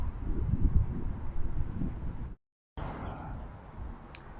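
Wind gusts by a lake in a mangrove-like forest area near an airport in Bahrain, buffeting the microphone as a low rumbling roar that drops out briefly, then returns softer.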